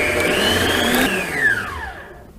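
An electric stand mixer beats sponge cake batter for a nut cake, its motor whining loudly and then winding down in pitch as it is switched off.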